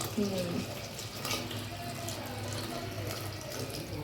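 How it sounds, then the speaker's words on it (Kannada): Water splashes into a cooking pot as a bottle gourd curry is prepared, a soft continuous pouring sound under a voice talking close by. "ನೀರು ಎಷ್ಟು ಬೇಕೋ ಅಷ್ಟು ಹಾಕೋತೀನಿ ನಾನು."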